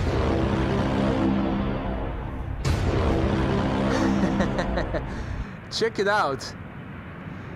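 A jet airliner departing Amsterdam Schiphol Airport gives a broad, loud roar that cuts off abruptly, after which people talk nearby.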